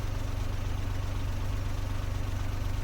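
Close by, a DE-10 type diesel locomotive built in 1972 and painted in special livery for the Orochi train rumbles steadily, its deep engine pulsing in a fast even rhythm at constant loudness.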